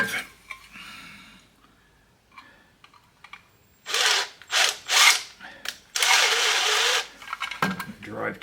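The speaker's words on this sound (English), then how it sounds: "drive two screws up through there." A power drill drives two screws up through a mount holding a jointer on a table saw, heard as several short, close whirring bursts after a quieter stretch of light handling noise.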